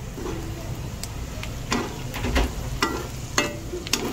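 Ginger and garlic frying in oil for a pork dish, a quiet steady sizzle punctuated by several sharp stirring scrapes and clinks close by.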